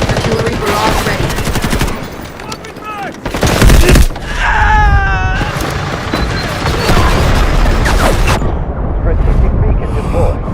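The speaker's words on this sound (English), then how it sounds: "Artillery barrage ready." An artillery barrage in the video game Delta Force brings dense bursts of rapid gunfire and heavy booming impacts, loud and close, with a brief lull before the barrage resumes. Voices speak over parts of the chaos.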